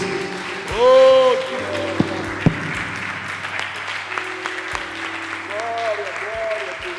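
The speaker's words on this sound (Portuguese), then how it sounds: "Você pode aplaudir a Jesus?" A church congregation applauds under sustained organ or keyboard chords, clapping moderate and continuous with a few sharper knocks, the music swelling and holding throughout.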